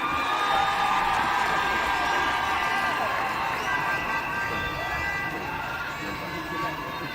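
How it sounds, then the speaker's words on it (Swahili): A large crowd at an outdoor swearing-in ceremony cheers and applauds in a dense, sustained roar, steady and loud throughout, with voices shouting within it. "Makofi tafadhali"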